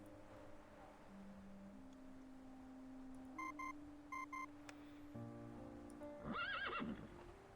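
A grazing horse in a video game, startled by a communicator's beeps, gives a loud whinny near the end and gallops off with hoofbeats, after two pairs of electronic tones over a quiet ambient hum.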